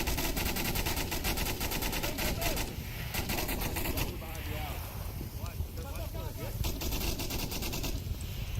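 Suppressive gunfire in the VR shooter Onward comes as repeated rapid bursts of automatic fire across the whole stretch, mixed with wind-like noise and voices talking over it.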